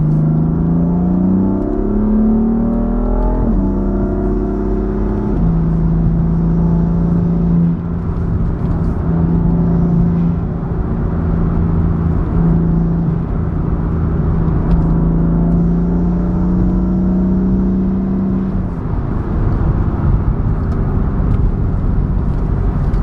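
A Stage 2 tuned BMW M4 in Sport Plus accelerates hard from inside the cabin, its engine note climbing through rising revs with gear changes, then holding a loud, steady drone before easing off near the end.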